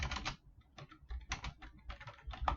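Bursts of computer keyboard typing, several quick runs of keystrokes separated by short pauses, close and fairly quiet, with no voice over it.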